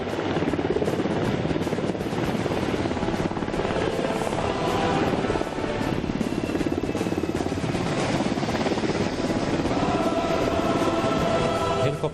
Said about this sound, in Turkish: bu helikopter şu an görevden dönen helikopter